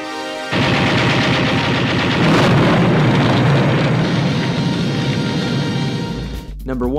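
Sustained loud burst of gunfire in a film death scene, a dense rapid volley like machine-gun fire running for several seconds before cutting off abruptly near the end.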